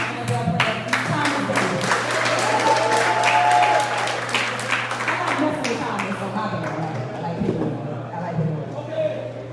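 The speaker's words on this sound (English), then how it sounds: "Let's have a round of applause." Audience applause at a community discussion event in Charlotte, loud dense clapping that peaks early and slowly tapers, with a low steady hum and scattered voices underneath.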